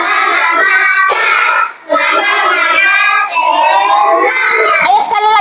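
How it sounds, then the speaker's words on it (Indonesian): Schoolchildren in a classroom chanting the rhythmic tepuk semangat clapping cheer: loud, close group voices sung in a patterned chant with sharp claps in between, continuous apart from a brief pause. "Ayo tepuk semangat, tepuk semangat."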